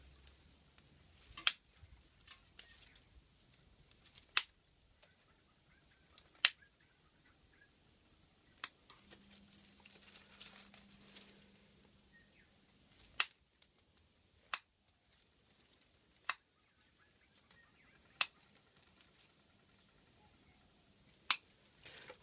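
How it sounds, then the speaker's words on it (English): Scissors snip off straggling bits of newspaper in a quiet room. Sharp, isolated clicks come every one to three seconds, with no talking. "All we do is we cut off the straggling bits."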